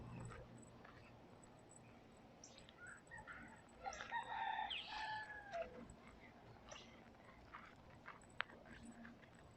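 Roosters crow and chickens cluck in the open on a street in Key West, with calls peaking in the middle of the stretch over steady outdoor background noise and a sharp knock near the end.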